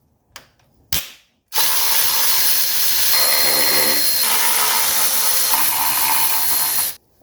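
A ratchet loosens the 13 mm valve cover nuts on a 1984 Mercedes 300D: two short clicks, then a steady, close, rapid ratcheting buzz runs for several seconds before stopping.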